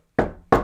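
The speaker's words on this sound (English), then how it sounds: "Knock on wood," Two sharp knocks on a wooden desk, about a third of a second apart, each loud, close and clean against silence.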